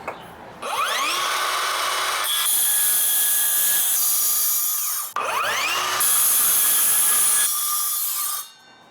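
Power saw cutting through a laminate sheet during a hallway makeover, two loud sustained whining cuts with rising pitch at spin-up, each lasting several seconds, separated by a brief pause.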